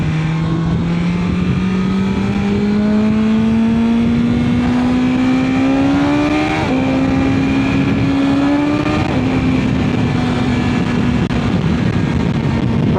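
A BMW S1000XR motorcycle engine accelerates hard and loud up through the gears, its rising whine breaking off briefly at each shift, heard close with no talking.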